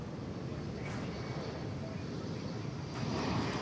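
An American airliner takes off at DFW Airport, a steady broad engine roar that swells slightly toward the end while radio chatter is faintly audible underneath.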